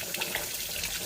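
Tap water runs steadily into a sink to soak large frozen bata fish, a continuous close splashing stream with no talk.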